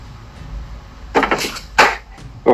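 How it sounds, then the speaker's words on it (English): Knocks on a door from the other side: a few sharp, irregular raps in quick clusters after a quiet stretch, fairly close and clear. "there's a knock from the other side"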